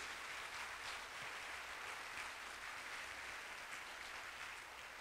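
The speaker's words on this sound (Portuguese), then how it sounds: "Dê uma salva de palmas bem forte para ele, em nome de Jesus." A church congregation at a Sunday service claps steadily as a broad, even wash of applause, fairly faint and distant, with no voices over it.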